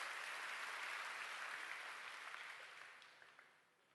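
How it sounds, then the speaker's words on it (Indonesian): A church congregation breaks into broad, sustained applause that fills the space, then gradually thins and fades over the last seconds with a few scattered claps trailing off. "Tepuk tangan buat Yesus."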